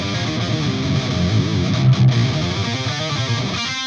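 Electric guitar run through a Whammy pitch-shift pedal, a dense distorted tone with wavering, sliding pitch bends that swell near the middle, played steadily and up close with no talk.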